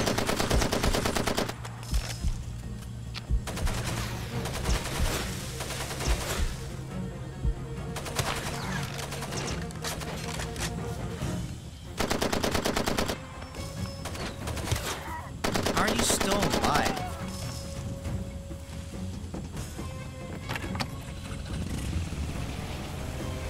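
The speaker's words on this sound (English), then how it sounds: "Shoot my gun." Gunfire in the video game Far Cry 2, set in Africa: loud bursts of automatic fire and single shots recur across the stretch, dense and close, with some background ambience between volleys.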